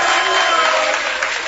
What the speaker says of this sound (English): Can you guys give him a round of applause, please?